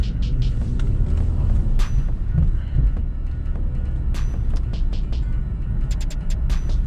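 A Hyundai Veloster Turbo hatchback rolls down a narrow street, its steady low engine rumble and road noise filling the interior at an even level, with a few light clicks and knocks over the drone.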